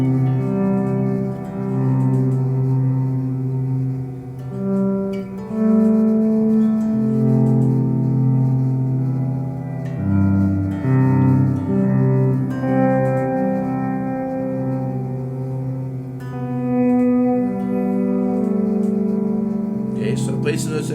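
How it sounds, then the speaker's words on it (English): An instrument played through an echo looper effect, shifting to a C tonality, with layered sustained notes repeating and overlapping into a continuous melodic texture that stays steady and fairly loud from start to finish. "I'm going to engage the echo again. So now it'll record what I play."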